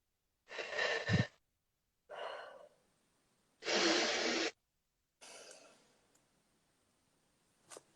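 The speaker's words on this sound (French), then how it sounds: "on souffle tous ensemble d'abord pour vider l'air" A group in a sophrology breathing session exhales together to empty the lungs, giving several long breathy outbreaths separated by short pauses, close and fairly soft.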